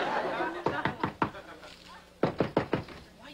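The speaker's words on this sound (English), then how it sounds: "Why'd you knock?" Knocking on a door in a sitcom scene: two quick bursts of three or four sharp, close raps separated by a short pause, with faint audience chuckles underneath.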